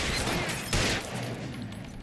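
Gunfire in the video game L.A. Noire, a dense burst of shots with a sharp loud crack near the start followed by continuing rattling fire at moderate level.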